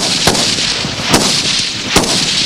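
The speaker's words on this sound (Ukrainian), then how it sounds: "кожний курсант робить 3 одиночних постріли і 5 чергою" Gunfire at cadets' shooting practice on a range, three sharp loud single shots spaced evenly about a second apart, each a crisp close crack over steady background noise.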